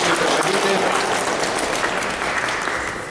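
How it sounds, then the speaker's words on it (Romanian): An audience at a painting exhibition opening applauds the president and vice-president, a thick, sustained wash of clapping that tapers slightly toward the end. "Încă o dată aplauze pentru președinte și pentru vicepreședinte."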